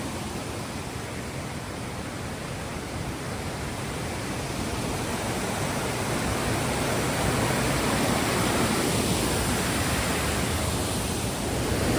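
Janet's Foss waterfall plunging into a shaded, mossy valley pool, a constant dense rushing roar of falling water, close and unbroken, growing a little louder toward the end.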